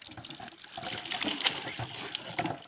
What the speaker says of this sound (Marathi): समोरून झरा आहे